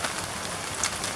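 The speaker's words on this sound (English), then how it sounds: "We've got water coming out now" Water sprays and patters steadily from holes drilled along a pipe, a close, continuous hiss like light rain with no voices.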